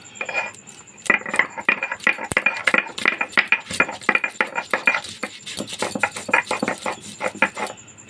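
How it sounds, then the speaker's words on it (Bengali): Jackfruit seeds being ground on a stone slab (shil-nora) with a stone roller, a rapid series of hard clacking and scraping strokes, close and fairly loud, with no talking. "এইভাবে আমি কাঁঠাল বীজগুলোকে ভালো করে বেটে নেব।"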